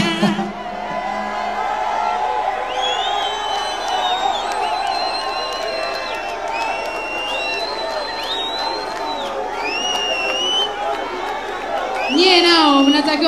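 Crowd cheering for a singer at a live concert, a loud, steady roar of voices with whoops and high shouts layered over background music, growing louder toward the end.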